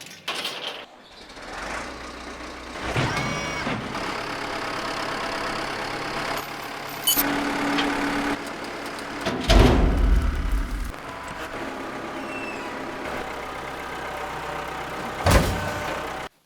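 A 1974 International Harvester 500 one-ton pickup with its engine converted to run on propane idles steadily outdoors, a loud continuous rumble with a couple of louder bumps and clunks partway through.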